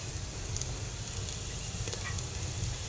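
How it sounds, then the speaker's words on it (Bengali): Onions and chillies frying in a pan for a dal recipe, a faint, steady low sizzle that continues evenly without talk. "পেঁয়াজটাকে আর লঙ্কাটাকে ভালো করে ভাজা ভাজা করে নেব"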